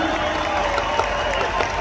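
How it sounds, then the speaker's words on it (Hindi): Sustained clapping from a big crowd with a lively murmur of voices mixed in, steady throughout. "एक बार जबरदस्त तालियां सभी के लिए, जोरदार तालियां"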